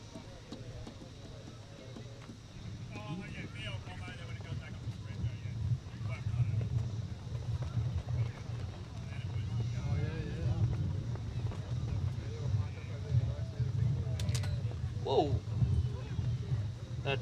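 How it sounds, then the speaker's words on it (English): Gusty wind buffets a microphone at an outdoor airstrip during drag racing, a steady low rumble throughout the clip with people talking over it. "That breeze is really picking up."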